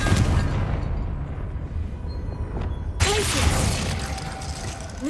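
A Confringo fire spell goes off in Hogwarts Legacy with a sudden, loud explosive burst midway, set against a dense, rumbling battle background with a voice heard faintly.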